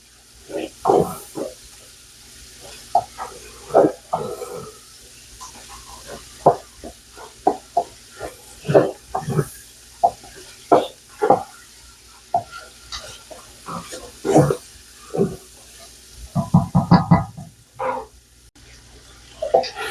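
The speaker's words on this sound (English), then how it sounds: "We're gonna cook that down until it's all the way done." Garlic and vegetables fry in a pan, a steady close sizzle broken by repeated scraping stirs that come in irregular bursts, with no voices.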